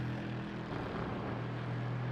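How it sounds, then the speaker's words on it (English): A Mercedes AMG GT3 race car engine in the racing game iRacing, heard at Laguna Seca as a loud, steady droning roar held throughout without a break. "The screaming of aggression from that Mercedes AMG engine is just something special."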